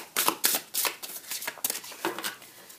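Tarot cards shuffled by hand for a new-moon reading: a close, quick run of crisp riffling bursts and soft slaps in an uneven rhythm, with no voices.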